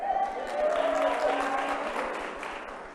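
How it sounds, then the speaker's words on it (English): Applause from a large audience at a national convention, a broad steady wash of clapping lasting the whole stretch at moderate level, with no voices over it. "I knew you would applaud that."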